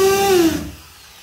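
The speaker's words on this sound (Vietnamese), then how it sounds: "Đây là khoan bê tông đây" A 220V electric concrete drill with speed control and reverse gives a short, close motor whine that drops in pitch as it spins down, fading to near quiet within a second.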